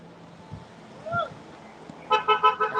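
Passing cars on a main road sound several short horn toots in quick succession at the end, loud and near, after a stretch of low traffic rumble and faint background noise.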